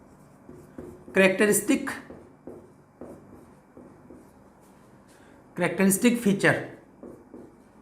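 Chalk scrapes across a classroom board in two distinct bursts of quick scratchy strokes as a heading is written. A voice speaks softly in the background between the strokes.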